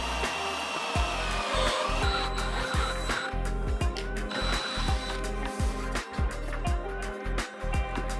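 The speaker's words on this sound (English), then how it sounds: "I'm going to need to drill some holes right up the guts of them so I can feed these wires out" A power drill bores holes up through wooden shelves for wiring, a whining motor repeatedly revving and pausing in short bursts at close range, loud and steady throughout.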